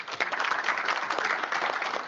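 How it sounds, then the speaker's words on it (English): Audience at a telecom industry event breaks into brisk applause for a guest joining the stage, a dense, steady patter of many hands clapping at moderate loudness, swelling slightly after a quieter start. "A round of applause for Igor."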